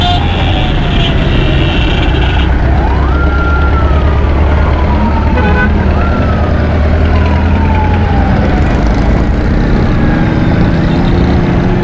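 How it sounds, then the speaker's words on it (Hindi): Wailing ambulance siren sweeping up and down, stuck in a dense Karachi traffic jam, loud and continuous over heavy engine rumble and scattered horn toots. "एम्बुलेंसें भी फंसी हुई है बड़ी सख्त।"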